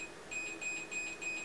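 An Arduino touchscreen controller for a Yaesu FT100D radio gives a string of bright, evenly spaced electronic beeps that run almost continuously at the end of its adjustment range, with no voices.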